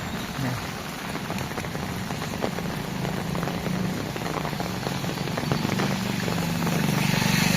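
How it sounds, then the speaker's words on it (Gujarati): Heavy rain pours down in Surat, a dense, constant hiss of drops hitting surfaces that stays loud and even throughout, with a low rumble underneath and no voices. "આજે વધી ગયો સુરતમાં વરસાદ."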